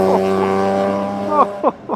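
A BMW E46 M3 in Laguna Seca blue drives by with a loud engine note that holds steady, then climbs and drops through a few quick revs and gear changes at the end.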